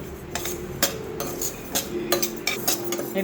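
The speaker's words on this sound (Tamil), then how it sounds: "நாட்டுக்கம்பு முக்கால் கப்பு வறுத்துக்கணும் பொரியிற மாதிரி பொடி மாதிரி நல்லா வறுத்துடணும்" Pearl millet dry-roasting in a pan, stirred with a metal spoon that gives repeated sharp scrapes and clinks against the pan in an irregular rhythm, fairly close.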